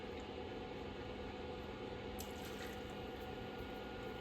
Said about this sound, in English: We're going to do a nice big pour of Elijah Craig on America's birthday today.